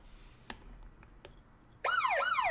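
A wailing emergency siren rises and falls sharply and loud in the final half second, after a faint near-silent background with a few soft clicks.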